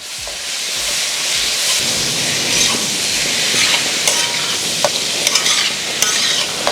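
Salted white lemons are stirred into spices frying in a pan for lemon pickle, giving a loud, steady sizzle with scraping and clinking stir strokes throughout, close up and without talking.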